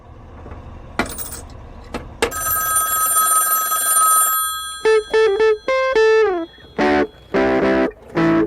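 A phone booth telephone rings loud and close after a coin drops and some clicks, its electronic bell sounding in several repeated bursts with short gaps between them, and no voices.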